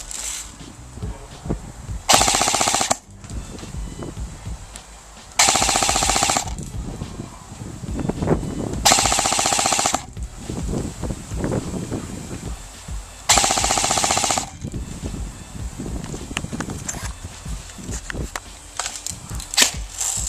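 An airsoft gun with a Systema turbo motor and a 7.4 volt LiPo battery fires four rapid full-auto bursts of about a second each. Quieter handling noise and rustling fill the gaps between bursts.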